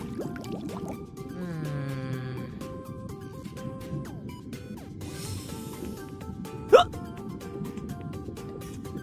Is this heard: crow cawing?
no